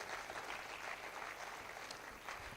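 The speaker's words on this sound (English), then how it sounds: "Please clap for him." Applause from a crowd, steady and moderately loud throughout, a dense patter of clapping with no talk over it.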